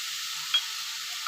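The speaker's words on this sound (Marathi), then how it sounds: "हे गाजर परतून घ्यायचं." Carrots sauté in a pan for a Marathi modak filling, a brief, even sizzle with a faint stirring clink.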